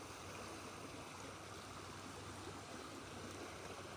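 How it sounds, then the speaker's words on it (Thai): Strong flood water rushes past a village entrance in a constant, dense roar of flowing water, steady and loud from start to finish with no voices. "ดูความแรงของน้ำนะครับ สูงขึ้นกว่าเมื่อวานอีกประมาณอีกประมาณฝ่ามือนึงครับ"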